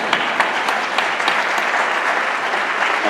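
Audience applause at a talk during the iRedes 2016 social media event, a dense steady clapping from a crowd that holds at an even level throughout.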